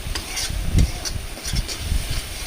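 Chili, cumin, coriander powder and turmeric fry in a pan for a spicy tilapia curry, with repeated scraping stirs and a soft sizzle underneath, close up and fairly loud.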